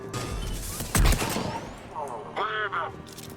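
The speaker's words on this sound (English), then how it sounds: "I'm trying to use a shotgun" Shotgun fire in the video game Mass Effect 3, a sharp loud blast near the middle among other in-game sounds and effects, with a voice talking over it.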